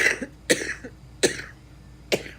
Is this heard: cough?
yes